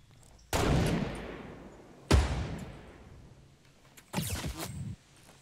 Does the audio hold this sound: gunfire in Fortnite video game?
yes